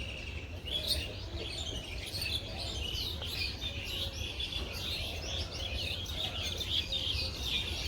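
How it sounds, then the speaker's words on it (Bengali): Birds calling around a village on a spring morning, a busy mix of chirps and tweets at moderate distance over a steady low background rumble, with no talking. "চারদিকে পাখি এত সুন্দর ডাকাডাকি করবানছে"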